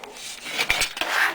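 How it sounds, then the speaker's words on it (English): Short scratchy rubbing strokes, close and abrasive, a few quick passes of steel wool scraping over the chrome of a 1973 Schwinn Collegiate bicycle. "Just wipe the surface off with steel wool."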